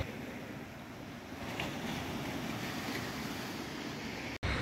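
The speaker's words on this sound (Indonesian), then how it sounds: "Hantaman ombak laut sudah meluas" Sea waves pound an eroding shoreline by a fish landing building in Bireuen, Aceh, a loud continuous roar of surf mixed with gusty wind buffeting the microphone, and a brief dropout near the end.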